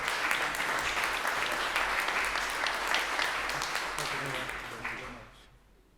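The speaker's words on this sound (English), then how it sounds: "Let's give them a round of applause as they come forward." Applause at a Savannah city council meeting, a sustained round of clapping across the chamber with some murmured voices mixed in, tapering off sharply at the close.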